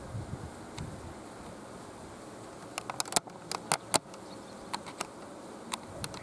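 Bees buzz softly around a hive frame as it is set in place, a low continuous hum with scattered sharp taps and knocks from the frame and hive box breaking through.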